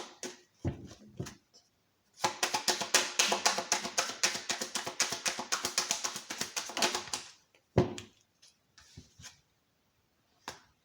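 Tarot cards being shuffled and drawn during a reading, a dense run of rapid crisp card riffling and tapping for several seconds, framed by sparse clicks and a brief soft voice before and after.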